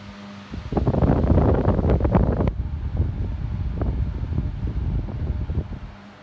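A 16-inch Westinghouse Standard oscillating fan blows air with a loud, broad whooshing rush close to the microphone, gusting unevenly and easing slightly toward the end, with no talking.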